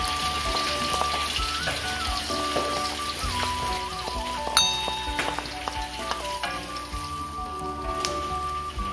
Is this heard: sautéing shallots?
yes